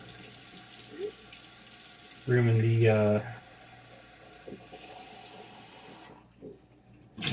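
A sink tap gushes loudly for about a second while dishes are hand washed, then cuts back to quieter dripping and clattering at the kitchen sink.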